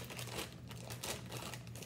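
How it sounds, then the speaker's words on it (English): A sealed bag of chips is opened by hand, giving close, quiet crinkling and crumpling of the plastic bag in a few rustling bursts. "Can you just open the bag of chips?"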